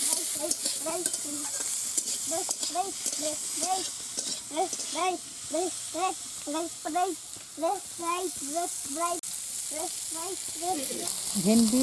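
Okra sizzles in a pan while a spatula scrapes in a quick, regular stirring rhythm, close and fairly loud, with no one speaking.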